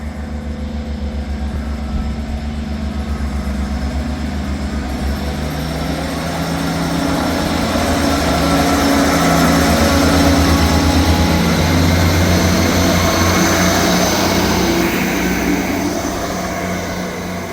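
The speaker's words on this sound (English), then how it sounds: "Departing out now is the 1507 ScotRail service from Leven to Edinburgh Waverley." A ScotRail diesel train departs on the Leven to Edinburgh Waverley service, its engine rumbling loud and steady with a low drone that swells mid-way and eases toward the end, with no talk.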